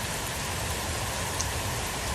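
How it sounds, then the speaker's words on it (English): Heavy rain pours steadily during an afternoon thunderstorm in Troy, Illinois, a dense, even hiss of drops on surfaces that holds loud and unbroken throughout, with no voices. "Right now, we've got heavy rain, thunderstorm"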